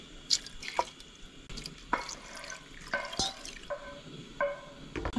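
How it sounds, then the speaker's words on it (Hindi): Water trickles and drips into a pot during cooking of Arabic fish mandi, with scattered splashes and drips at close range, no talking. "अब हम थोड़ा सा बाकी हिस्से के साथ हम पानी डालेंगे और इसको पकने के लिए रख देंगे"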